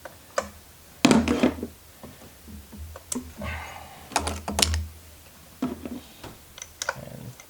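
A ratchet loosening a car spark plug gives sharp, close clicks and clacks in short irregular bursts, with quieter handling noises between them.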